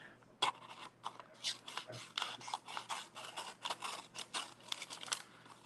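Guitar-shaped scissors snipping through paper: a quick run of crisp, close cuts and slicing scrapes at an uneven rhythm, fairly quiet and heard alone.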